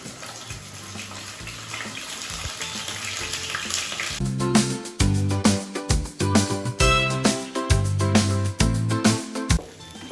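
Marinated chicken sizzles in a hot pan, a steady broadband hiss alone for the first few seconds, then partly masked by loud melodic music that comes in and continues to the end.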